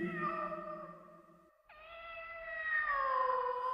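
A cat lets out two long, drawn-out meows, close and clear, the second rising and wavering, with a brief pause between them.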